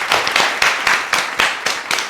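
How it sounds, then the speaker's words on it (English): An audience applauds at the opening of a talk show episode, loud bursts of clapping rising and falling in a rough rhythm throughout. "Guys, round of applause"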